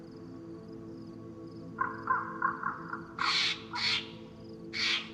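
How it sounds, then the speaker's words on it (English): Crows cawing loudly, as in a DayZ game outdoors: a quick series of short croaks followed by three long, harsh caws, close and prominent over a steady low background hum. "Those crows are loud."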